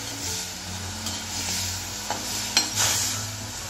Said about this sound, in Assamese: এইখিনি ভালকৈ লৰাই আছোঁ গুৰখিনি গলি যোৱালৈ